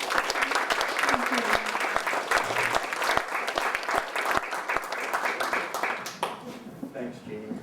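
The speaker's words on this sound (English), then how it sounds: "Let's give them one final round of applause." An audience at a memories gathering of former Ontario Hydro workers breaks into sustained applause, dense steady clapping from many hands close by that tapers off near the end, with voices mixed in.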